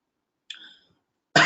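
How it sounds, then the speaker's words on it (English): A single dry cough from an itchy throat comes near and loud at the very end, after a brief faint throat sound and silence. "my throat is dry. It's itchy and coughing"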